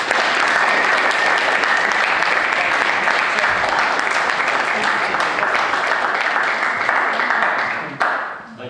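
Sustained audience applause at an evening magic show, dense and loud clapping that carries evenly for several seconds before tapering off near the end.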